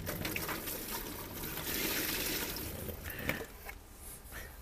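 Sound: bucket of water poured into cardboard shower tub

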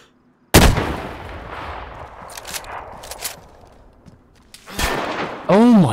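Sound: gunshots in a video game

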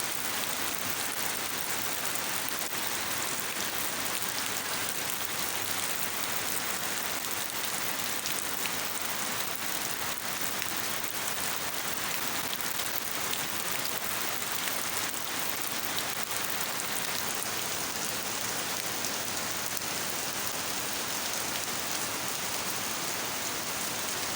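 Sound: rain falling

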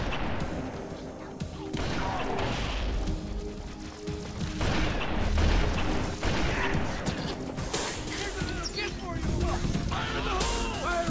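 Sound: Shade turret firing and explosions in Halo CE video game

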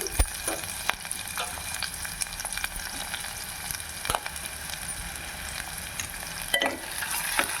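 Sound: onions and capsicum frying in a pan

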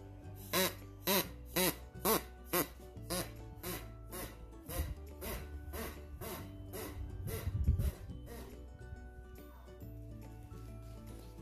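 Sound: homemade paper duck whistle imitating duck quacks

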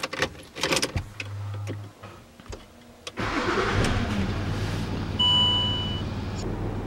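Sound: Land Rover Discovery 3 engine starting

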